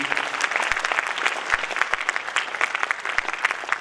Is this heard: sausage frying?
no